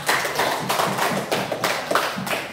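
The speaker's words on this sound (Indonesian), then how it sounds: "Kita berikan aplaus." A classroom group claps together for a student, a dense, steady burst of applause lasting throughout with a few louder swells, close and fairly loud.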